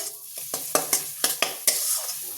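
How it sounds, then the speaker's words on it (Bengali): Spice masala with a little sugar being sautéed in a pan, a soft sizzle under repeated sharp scrapes and taps of a spatula against the pan in an uneven rhythm, close and clear with no talk. "এবার আমি সামান্য চিনি দিয়ে দিচ্ছি। এটা আমি ভালোভাবে কষে নেব।"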